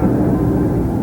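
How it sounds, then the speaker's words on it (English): A Glasair light aircraft's engine drones steadily and loudly through a flat aerobatic tumble, a dense continuous roar with no breaks. "The airplane does a flat, complete tumble over the top."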